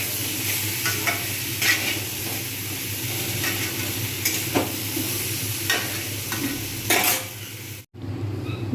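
Meat fries in a pan with ground coriander, chili, turmeric and cumin, giving a steady close sizzle with stirring clinks and scrapes of a utensil against the pot, and a brief drop near the end.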